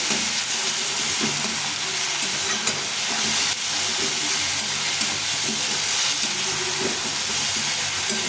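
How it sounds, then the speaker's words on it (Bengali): Tomato with salt and turmeric fries in hot oil, a steady loud sizzle and hiss that runs unbroken throughout, with faint stirring scrapes and no voices. "ভালো করে ভেজে নেব লবণ তেলে টমেটোটা গলে যাবে"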